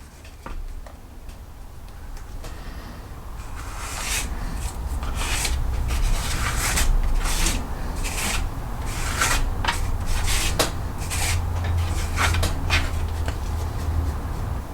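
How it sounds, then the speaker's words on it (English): Close, rhythmic rasping and scraping as a Swiss Army knife blade bores holes into leather for a sheath, with steady grinding strokes and light ticks repeating throughout. "So we're gonna drill out the rest of these holes."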